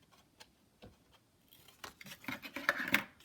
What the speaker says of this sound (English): First, I'm going to cut the corners here